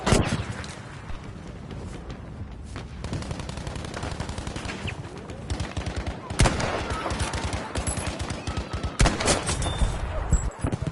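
Battlefield V gunfire: rapid automatic bursts crackle almost continuously, with louder volleys now and then, close and intense throughout.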